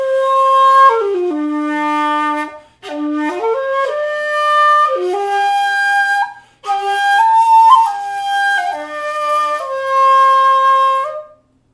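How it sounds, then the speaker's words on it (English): A shakuhachi is played in a loud, robust modern jiari style, sustained breathy flute tones with pitch bends and slides, in several phrases separated by short pauses, close and alone. "I'll make a very loud, robust sound that's typical for modern jiari shakuhachi playing"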